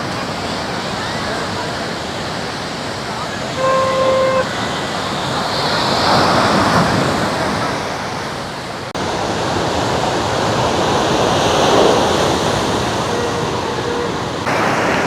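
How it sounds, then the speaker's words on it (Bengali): Big sea waves roll onto Puri beach, a broad continuous roar of surf swelling and easing over the clip, with wind buffeting the microphone throughout. "আর এখন ঢেউটাই আজ দেখুন একবার, নেক্সট লেভেলের ঢেউ আসছে।"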